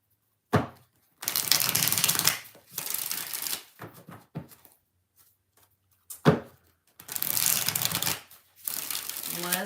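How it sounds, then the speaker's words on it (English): Tarot cards riffled and shuffled in several bursts, crisp rapid fluttering followed by soft taps as the deck is squared, close up. "Three more shuffles."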